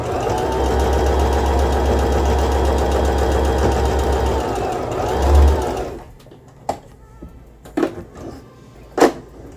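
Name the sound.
Singer M3220 sewing machine stitching linen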